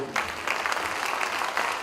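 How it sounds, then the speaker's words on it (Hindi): An audience at a drama competition prize distribution gives a short burst of steady applause, moderately loud and continuous. "इसके लिए जोरदार तालियां।"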